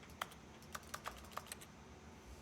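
Typing on a computer keyboard, a quick run of about eight light, crisp key clicks in an uneven rhythm, faint and close with nothing else over them.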